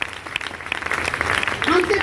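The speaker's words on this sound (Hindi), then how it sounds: "गुरु माता जी के लिए फिर जोरदार ताली होना चाहिए।" An audience claps for the guru's wife, a short burst of crowd applause rising in loudness, with voices and cheering mixed in.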